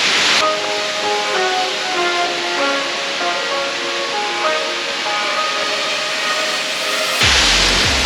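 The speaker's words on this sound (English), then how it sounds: "And the Three Cascade Waterfall is a must-do in Tahiti." Three Cascade Waterfall in Tahiti, French Polynesia, gives a steady, loud, even roar of falling water that holds without a break from start to finish.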